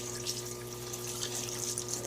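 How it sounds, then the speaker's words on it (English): Cleaning fluid from a parts washer pouring through a fluid brush over a greasy part, a steady close trickle and splash over a constant low pump hum, with no talking. "just let the fluid just flow over everything"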